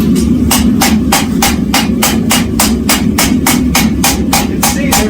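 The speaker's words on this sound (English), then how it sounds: "we're going to set the weld with this second welding" A blacksmith hammers a forge weld, setting it with a fast, even run of about fifteen ringing blows over an anvil, loud and close over a steady forge roar, with no talking.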